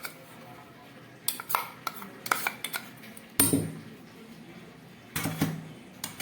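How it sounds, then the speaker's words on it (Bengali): Ground red lentil paste is spooned into a bowl of tomato for coriander pakoras, giving scattered clinks and sharp taps of a spoon against the bowl, irregular and close, with quiet gaps between. "এবার দিয়ে দিচ্ছি বেটে রাখা মুসুর ডালটা।"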